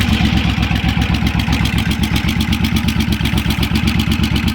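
Motorcycle engine running close by at a steady, loud, rapid-pulsing idle with a mechanical clatter throughout, no voices over it.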